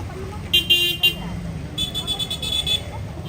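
Cars move through street traffic with several short, high horn toots in two bursts, over a low rumbling traffic background.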